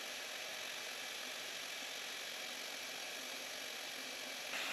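An electric pump inflating a Bestway Lay-Z-Spa Tahiti inflatable hot tub gives a steady, loud mechanical drone with no break, and it grows slightly louder in the last moment.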